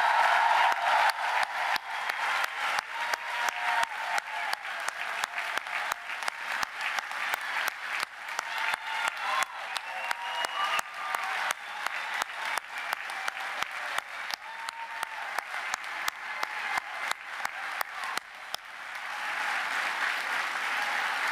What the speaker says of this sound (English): One last huge round of applause for Springside Chestnut Hill Academy Class of 2022.